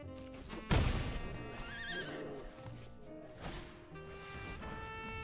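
A ghost horse in the Brawl Stars video game lets out a loud, close whinny that rises and wavers, with hoof clip-clops and game effects around it and no talking.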